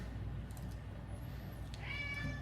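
A talkative male cat meows once near the end, a clear drawn-out cry over steady low room hum, close by and moderately loud.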